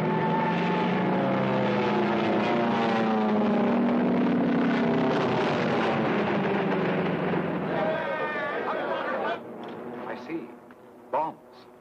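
A squadron of 1940s aircraft flies in to attack, with a loud sustained propeller-engine drone that rises and then thins out. Voices call out over the engines, and a few sharp bursts come near the end.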